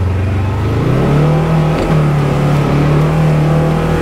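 A Polaris General XP 1000 UTV engine labours steadily in low gear while climbing a big, sloppy hill in four-wheel drive, a loud, close, continuous drone that rises slightly in pitch and holds, with no talking.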